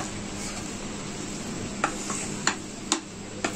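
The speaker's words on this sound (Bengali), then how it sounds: "এবার আমি এই খোয়া ক্ষীর আর পনিরটা একসাথে ভালো করে মিশিয়ে দেব।" Khoya kheer and paneer are stirred together in a pan over medium flame. A steady low sizzle runs throughout, broken by a few sharp clicks of a spatula against the pan, with no voices.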